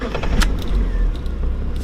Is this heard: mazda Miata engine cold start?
yes